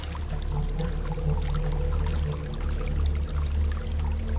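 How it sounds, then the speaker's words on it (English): Waterfall in the video game Hellblade: Senua's Sacrifice, a steady, full rushing roar of falling water that holds at an even loudness throughout, with no voices over it. "There's a waterfall."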